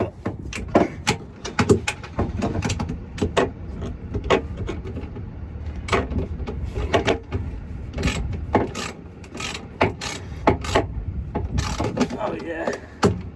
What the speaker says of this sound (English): The sound of that ratchet right now is music to my ears.